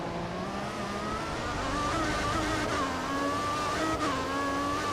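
Formula 1 car engine in the F1 2014 racing game, a steady loud high-pitched whine that rises and dips with revs throughout, with no talk.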